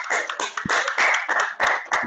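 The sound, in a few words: online meeting audience clapping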